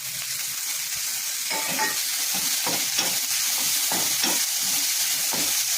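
Onion, ginger-garlic paste, asafoetida and tomato sauté in hot oil for Konkani-style matar amti, a loud steady sizzle broken by repeated scraping stirs of a spoon.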